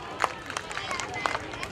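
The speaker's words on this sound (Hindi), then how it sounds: "जोरदार जोरदार ताली भी बजाना चाहिए।" Clapping from a crowd at a Saraswati Puja community gathering in Rohini, a patchy, scattered patter of hands over murmuring voices and background chatter.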